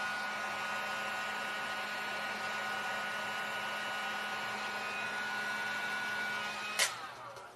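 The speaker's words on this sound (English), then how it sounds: "that dryer is really loud" A hair dryer blows with a steady, loud whirring hum that runs unbroken, then a brief sharp knock near the end as the airflow shifts.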